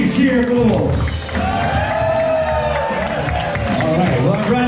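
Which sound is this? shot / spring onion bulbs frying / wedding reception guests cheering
wedding reception guests cheering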